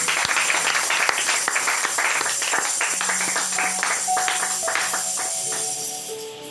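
A church congregation applauds together during a worship service, a loud, dense wash of clapping that holds steady for several seconds and then starts to thin and fade, with some sustained music tones underneath.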